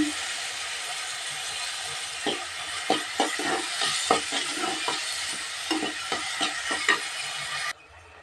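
Tomatoes and onions fry in a pan with rock salt, giving a steady close sizzle broken by a series of scraping stirs in the middle, with no talk.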